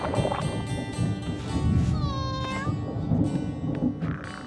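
A cartoon cat lets out a drawn-out, wavering meow mid-clip amid busy cartoon sound effects and music.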